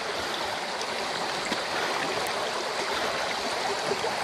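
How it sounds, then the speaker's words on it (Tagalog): Continuous rushing of a river or stream, a steady broadband wash of flowing water close by, with no voices over it. "Kailangan natin tumawid ng ilog bago natin marating yung pupuntahan natin."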